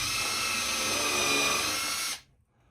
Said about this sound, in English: Then I use my countersunk bit.